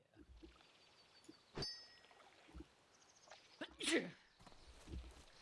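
A single sharp sneeze bursts out around the middle, standing out against quiet room noise with a few faint clicks and thumps.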